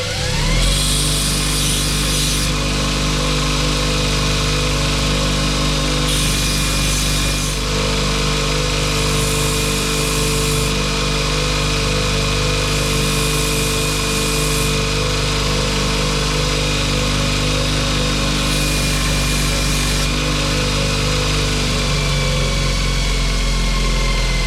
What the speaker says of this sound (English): Belt sander, nothing new.